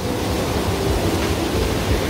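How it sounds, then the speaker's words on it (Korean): Water plunges into the pool of Jaein Waterfall, a sunken gorge lined with columnar basalt, giving a dense, steady roar with no pauses and no voices. "저 물들이 내려와서 이 제인 폭포로 떨어지는 겁니다"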